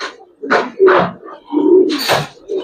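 A pair of Muslodom pigeons coo in several short, throaty bursts, close and fairly loud, with brief pauses between calls.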